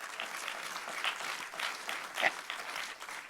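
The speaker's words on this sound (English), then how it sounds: "Yeah, he's clapping." Clapping from an audience at a Christian conference session, a soft, fairly distant patter of hands with no voices.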